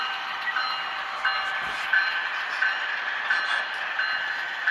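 Several HO scale model train engines run together on an indoor layout, making a steady high-pitched motor whine with light rhythmic clicking of wheels over the track, fairly quiet and close.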